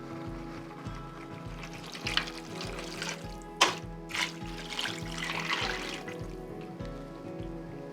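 Beef broth poured from a container into a cooking pot of chili mac, a steady liquid splash and trickle over a low kitchen hum, close and moderately quiet.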